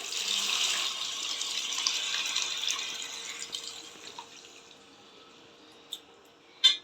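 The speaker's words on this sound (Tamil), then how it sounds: "இப்போ புளி தண்ணி ஊற்றுறோம்" Tamarind water is poured into a simmering fish curry, giving a steady watery splash that tapers off over a few seconds, followed by a couple of faint clinks.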